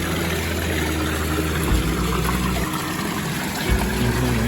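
Water pouring steadily from the waterfall of a raised wooden koi pond, a continuous rushing splash with a low pump hum beneath, close and even throughout.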